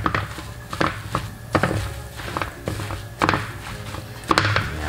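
Papaya atsara being stirred and mixed with onion in a bowl, giving a run of soft, irregular knocks and scrapes from the utensil at close range with no talking.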